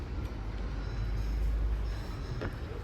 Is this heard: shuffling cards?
no